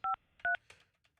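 Touch-tone keypad beeps from a phone being dialed on a live morning radio show: a quick run of short, loud dual-tone beeps in pairs, followed by a softer tail.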